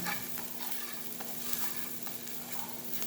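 Onions frying in a pan, a steady soft sizzle with occasional stirring scrapes, continuous and close throughout with no talking.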